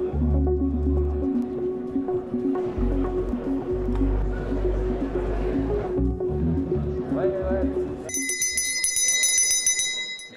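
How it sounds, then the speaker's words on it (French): A bell rings out clearly near the end to open a pitch session between airports and airlines, heard after a stretch of busy room noise and chatter. "lorsque la cloche sonne, chaque aéroport a 20 minutes et pas une de plus"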